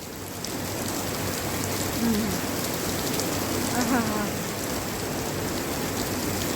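Rain falls steadily in a continuous, even hiss that carries through the whole stretch, with a faint voice briefly underneath.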